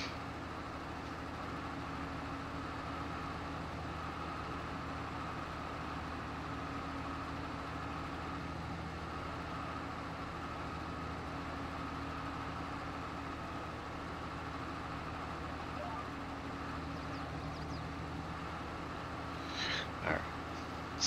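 Tractor engine in the Maypole Farms farming game, a low steady idling drone that runs unchanged throughout, with a brief faint clatter near the end.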